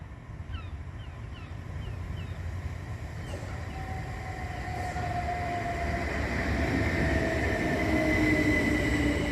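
A Southern class 377 electric train pulls into Havant station, its rumble and rolling noise swelling gradually from a distance to near and loud, with a rising whine from the motors, and no voices.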